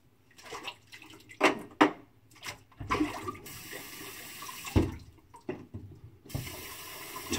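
Tap water running into a sink to rinse the face after a wet shave, close splashing and gurgling in uneven bursts with short pauses between.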